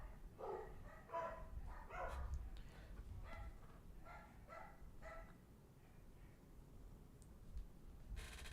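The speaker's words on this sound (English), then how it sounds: "God damn it, dogs." Several dogs bark in short repeated bursts with a few yips mixed in, at moderate distance, with the barking thinning out toward the end.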